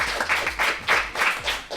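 Audience at a radio café show applauds in a short burst of steady clapping, several pulses of hand claps rising and falling over about two seconds.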